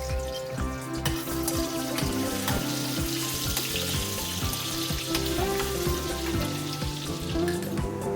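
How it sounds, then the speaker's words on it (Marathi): Chili and garlic paste frying in a pan for a green bean bhaji, a steady close sizzle with the scrape and clack of a spatula stirring throughout, with no voices. "त्यानंतर मिरची आणि लसूणची पेस्ट घालून घ्यायची आणि ते भाजून घ्यायचं"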